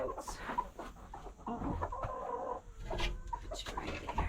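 Chickens, including broody hens, cluck and murmur close by, a run of soft, irregular clucks and a few higher squawks with faint background rustling.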